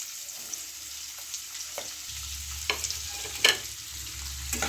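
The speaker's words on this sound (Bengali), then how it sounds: "এবার আমি এখানে 2টো পেঁয়াজ কুচিয়ে রেখেছি, একদম ছোট ছোট করে দিয়ে দিচ্ছি। ভেজে নেবো ভালো করে।" Finely chopped onions fry in hot oil with a continuous soft hiss and sizzle, and a few faint clinks from a stirring spoon rise above it.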